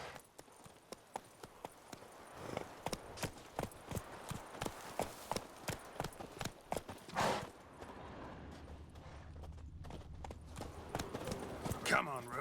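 Roach, the horse in The Witcher 3, gallops in a steady rhythmic clip-clop of hooves that fades into a softer rumble, while someone speaks over it.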